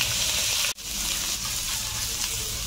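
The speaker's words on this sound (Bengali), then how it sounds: "1 মিনিট আমি পেঁয়াজটা ভাজলাম।" Chopped onions frying in about half a spoon of hot oil in a pan, a steady loud sizzle throughout, briefly cut off once near the start, with no talk.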